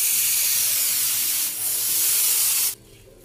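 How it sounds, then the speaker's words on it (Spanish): Beef laid on a very hot comal griddle gives a loud, steady, close sizzling hiss that dips briefly and then cuts off sharply near the end. "En un comal bien caliente vamos a ir poniendo la carne."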